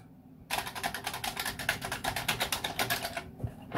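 Rapid, steady typing on a Commodore 64 keyboard, with dense mechanical key clacks in a fast continuous run for about three seconds after a quiet start. The sound is close and distinct, with no talking.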